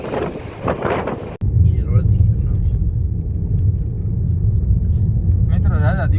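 A Hyundai Creta out on a village drive, its engine and road noise making a steady low rumble with wind buffeting. People talk briefly at the start and again near the end.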